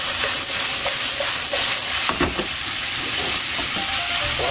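Vegetables stir-fried for yakisoba sizzle loudly and steadily in a hot pan, with occasional scraping and clattering from stirring, close and continuous.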